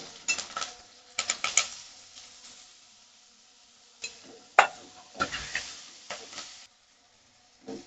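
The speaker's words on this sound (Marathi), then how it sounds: "कांदा भाजून झाला की इथे कढीपत्ते आणि टोमॅटो ऍड करून घ्यायचा आहे" Onion, tomato and curry leaves sautéing in a pan, with a faint sizzle under repeated spoon scrapes and clinks against the metal that come in irregular bursts, then fall silent at the end.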